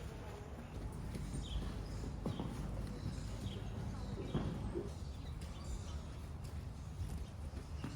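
Mustang horses shifting and stepping at an adoption event, hooves clopping irregularly on the ground amid steady outdoor background noise and faint bird calls, with no clear talk.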